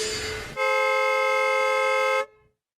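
A car horn blares as the car narrowly misses a pedestrian: one loud, sustained honk under a second and a half long, preceded by a rush of traffic noise and cut off abruptly.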